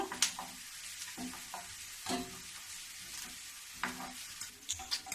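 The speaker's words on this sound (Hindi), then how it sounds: "देखो इसी प्रकार मैं चलाते रहूंगी, ये सारा ऊपर आ जाएगी, फिर मैं इसको निकालूंगी।" Sabudana fries in oil over a low gas flame while being stirred, a soft ongoing sizzle broken by scraping and clinking strokes of the spoon against the pan, close and with no speech.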